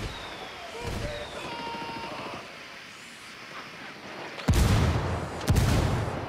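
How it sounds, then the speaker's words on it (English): An indirect artillery fire strike in Ghost Recon Wildlands lands as two heavy, booming blasts about a second apart, breaking a quieter stretch of in-game ambience. "Calling for indirect fire."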